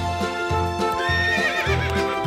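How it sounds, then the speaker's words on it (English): A toy horse gives a loud, close, wavering neigh over clip-clop hoofbeats and a rhythmic children's music bed, continuous for about two seconds. "Horse."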